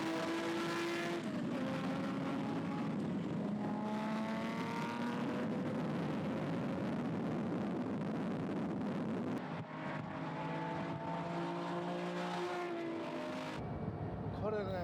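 A special Nissan 30Z with a 3.2-litre engine and 89 mm pistons drives on a test run, its engine note rising and falling steadily through gear changes throughout, with people talking inside the car over the continuous drone.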